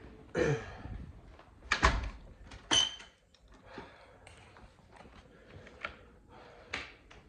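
A back door opens or closes at home, giving a few sharp knocks and thuds up close, with softer clicks and shuffles between them.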